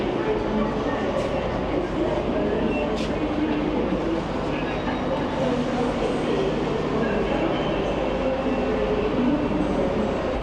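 Rumbling train noise at Leeds station, a steady broadband roar with faint clatter throughout, indistinct voices and platform sounds mixed in.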